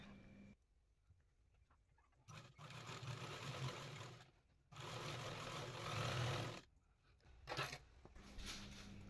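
Sewing machine double-stitching a gown seam, running in bursts of rapid, buzzing whir separated by short pauses, close and fairly quiet, with the fabric being repositioned between runs.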